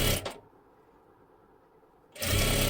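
A sewing machine stitches a latkan tassel cord for a blouse, with short whirring bursts at the start and the end and a quiet pause between them.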